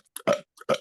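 Two short, close burps in quick succession, each a brief throaty croak, with no talking.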